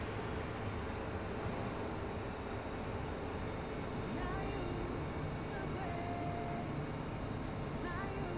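A Ukrainian Su-27 jet flies a display in a simulated cockpit with its air brake extended, giving a steady, loud broadband roar that holds without a break.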